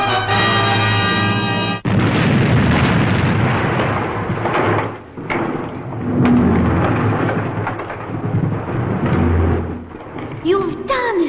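A loud, rumbling explosion effect from the Fireball XL5 puppet series, with a booming blast after a brief tonal intro, followed by crackling, rolling debris and rumble for several seconds, and a short voice near the end.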